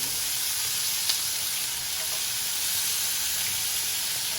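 Jerk pork searing on a hot grill gives a dense, even sizzle and hiss throughout, loud and close, with one faint tick partway through.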